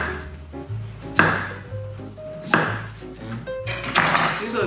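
A knife cuts potatoes into thin chips in a home kitchen, making a few close, crisp chops on a board at uneven intervals over a low background hum.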